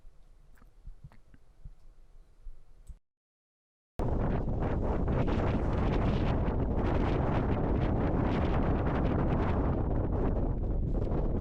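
Strong, cold wind on a Scottish mountain summit plateau near Loch Arkaig buffets the microphone in a loud, continuous roar after a brief quiet start and a short silent gap.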